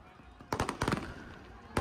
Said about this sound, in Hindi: बड़ी कलरफुल आतिशबाजी कर रहे थे वहाँ पे